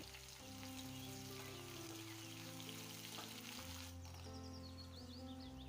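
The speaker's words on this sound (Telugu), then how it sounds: "ఇప్పుడు ఒక కడాయి పెట్టుకొని అందులోకి కాస్త నూనె వేసి పోపు దినుసులు, ఎర్రగడ్డలు, పచ్చిమిర్చి, కరివేపాకు వేసి ఫ్రై చేసుకోవాలి" Onions, green chilies, curry leaves and seasoning spices frying in a little oil in a kadai make a soft, continuous sizzle under steady background music.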